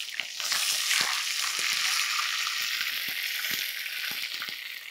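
Curry leaves sizzle loudly in hot oil for a banana chukka fry, a steady bright hiss with small crackles and pops scattered throughout, close and continuous.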